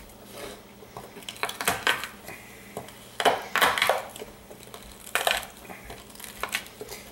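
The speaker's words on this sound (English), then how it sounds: "Sprinkle a bunch of salt on there, and then just use the flat side of my knife and crush these suckers." Garlic cloves are crushed in kosher salt under the flat of a knife on a board, a series of close, sharp pressing crunches and knocks in irregular bursts with brief pauses between.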